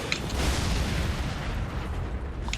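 A deep, rumbling explosion in the Elden Ring video game fills the whole moment with loud, dense noise that stays sustained and heavy throughout.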